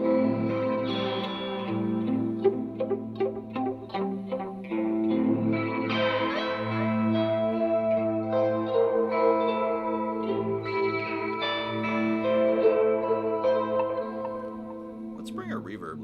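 An electric guitar plays slow, moody notes through an effects pedal with reverb, echo and a lo-fi, textural tone, sustained and ringing at a fairly loud level throughout.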